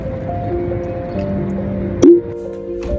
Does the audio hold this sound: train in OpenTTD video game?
no